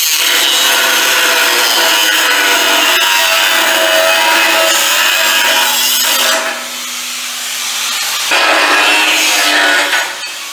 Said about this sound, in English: that's a grinder right there